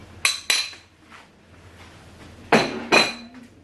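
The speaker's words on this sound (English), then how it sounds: "So I'm going to stir." Banga soup being stirred in a pot gives a few sharp metallic clinks of a spoon against the pot, two quick knocks early and two more later, with quieter scraping in between.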